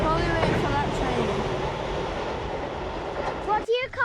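A train passes near a Halloween trail, its loud rolling rumble with some clattering running under a voice, and then sharp squeals near the end.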